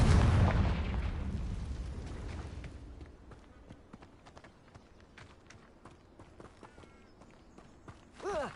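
A Confringo spell fired in Hogwarts Legacy on PS5 bursts as a loud, booming explosion at the start and rumbles as it fades over a few seconds. Softer game sounds follow, and a brief swell comes near the end.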